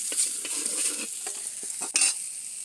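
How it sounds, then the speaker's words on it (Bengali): Fish frying in oil, a bright steady sizzle broken by a series of spatula stirs and scrapes, one sharper clatter near the end. "মাছগুলো এখন আমি ভাজি করতেছি"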